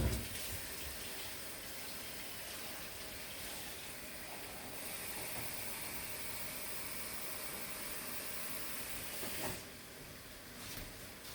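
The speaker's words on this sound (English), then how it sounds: "For me, so that it cook quickly, I add the hot water." Hot water pours steadily into a cooking pot holding pork hock, a continuous hissing, splashing rush heard close up and alone, easing briefly near the end.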